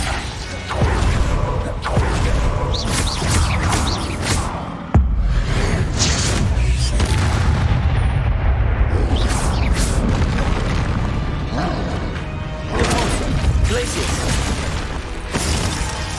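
Bombarda spell blasts in Hogwarts Legacy, booming explosions with crashes and shattering debris over a dense battle din, loud throughout, with a sharp hit near the middle and voices shouting over the fighting.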